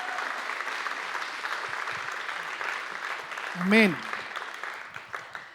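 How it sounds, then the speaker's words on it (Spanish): A church congregation applauds together in a steady, roomy wash of clapping, with a speaker briefly calling out partway through before the clapping carries on. "¿Qué tal si le da un fuerte aplauso al Señor en esta mañana?"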